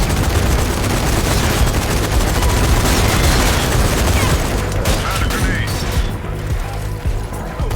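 Rapid, dense gunfire from the zombie shooter Zombie Army 4: Dead War in horde mode, loud and continuous bursts like a fusillade, thinning slightly near the end, with a person talking over it.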